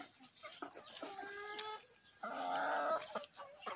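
Burkovsko-barvisty hens cluck and squawk in short bursts with a longer drawn-out call, close by, against a quiet background, on free range.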